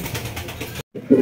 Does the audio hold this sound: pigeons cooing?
yes